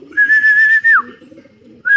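Racing pigeons arriving at a loft, with one clear whistling call that holds steady, then bends downward, and a second call starting at the end, close and loud over faint low background rustle.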